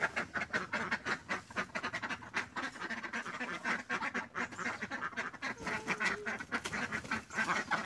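A group of ducks quacks busily and continuously at close range, overlapping calls forming a dense chattering flock sound with no talk.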